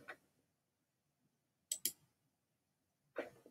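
A computer mouse clicks a few times in a quiet room: one soft click, then a quick close pair of sharp clicks, then another, each brief and isolated against near-silence.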